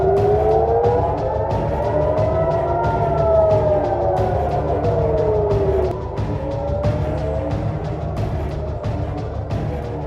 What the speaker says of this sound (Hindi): हमलों के सायरन बजने लगे।